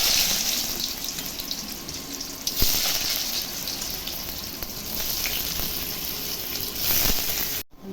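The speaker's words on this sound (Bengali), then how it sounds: "তেল গরম হয়ে গেছে, এখন আলুগুলা ভেজে নিচ্ছি।" Potato pieces frying in hot oil in a home kitchen, a steady close sizzle and hiss running throughout without speech, with a brief sharp knock near the middle and a louder surge near the end.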